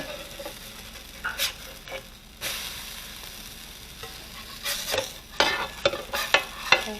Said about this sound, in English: Okay, so now we're going to turn the burgers. To be careful, they don't splatter all over the place.